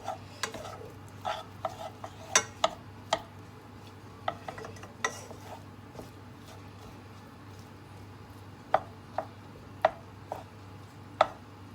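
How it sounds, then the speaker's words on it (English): A spoon stirring melting chocolate and marshmallow in a pot, faint scattered scrapes and taps against the pan at irregular intervals over a low steady hum. "You only really need to stir occasionally, but you don't want it to burn or get stuck to the bottom."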